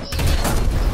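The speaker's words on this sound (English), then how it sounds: "that Sherman just exploded" A Sherman tank blows up in a World War II tank battle video game, a loud sustained blast with rumbling low end and crackling debris filling the whole moment, no voices over it.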